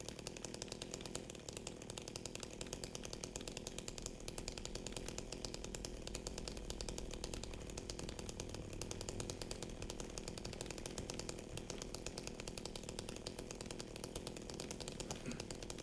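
A chainsaw revs continuously in the Silent Hill 2 Remake video game, a harsh buzzing engine drone with a rapid rattling pulse, steady and prominent throughout with no talk.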